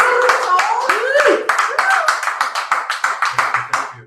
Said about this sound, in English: Let's give another round of applause to Josh.